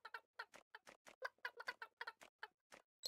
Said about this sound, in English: This is a frozen ass chicken.